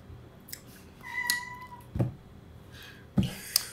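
A house cat on a sofa meows several times, short separate cries spaced across a few seconds, fairly close and clear over a quiet room with no talk.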